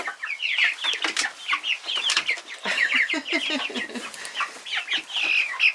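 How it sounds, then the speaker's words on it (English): Young chicks let out into their run for the first time, a busy chorus of close, high peeping and soft clucks in rapid overlapping bursts, with occasional wing flutters. "Crazy chickens."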